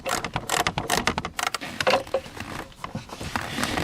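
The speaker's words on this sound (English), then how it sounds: "I'm using a 1/2 inch socket here and a 3/8 inch ratchet" A 3/8 inch ratchet with a 1/2 inch socket backs a bolt off a GMC/Chevy hood release bracket, rapid uneven clicking bursts close up with brief pauses between strokes.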